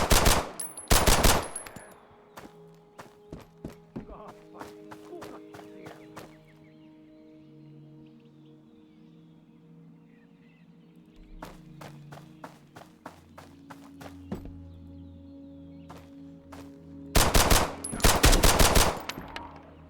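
Survival video game gunfire: sharp bursts of rapid shots at the start and again near the end, with scattered single cracks and quieter footsteps and ambience in between.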